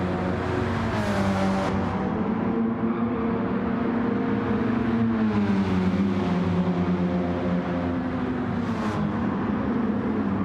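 Race car engine on the Suzuka circuit in Gran Turismo, a loud steady close drone with rising and falling pitch as the car accelerates, shifts and brakes through corners, with no talk over it.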